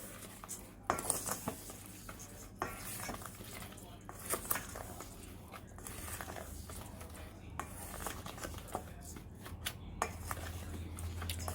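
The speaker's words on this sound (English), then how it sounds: "So we just want to mix this around, make sure that it is well incorporated." Flour and sugar stirred together in a bowl for carrot muffins, giving soft scraping and light clinks of utensil against the bowl, steady and close, with a low hum underneath.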